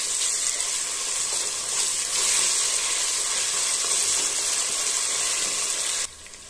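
Ginger garlic paste frying in hot oil for coriander rice gives a loud, steady sizzle with a hissing wash that holds evenly, then drops off abruptly near the end.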